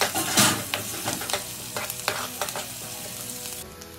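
Onion fries with cumin in a pan for poha, producing a close, crackling sizzle punctuated by several spatula scrapes and taps, loudest at the start and tapering slightly, with no one speaking.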